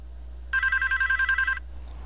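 A cell phone rings with a rapid pulsing electronic trill that lasts about a second, near and clear over a quiet low hum.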